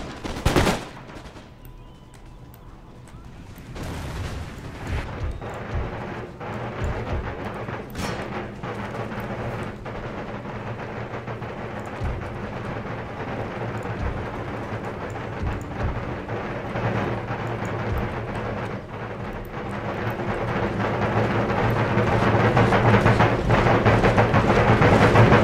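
Musket volleys in the video game Empire Total War during the siege of Charleston, a loud, sustained crackle of massed gunfire rolling over a dense battlefield din that swells toward the end, with no speech.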